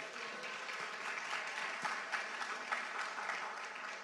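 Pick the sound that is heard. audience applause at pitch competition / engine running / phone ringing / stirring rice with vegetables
audience applause at pitch competition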